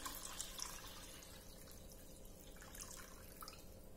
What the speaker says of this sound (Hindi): अब हम इसमें मिक्स करेंगे 1 लीटर पानी।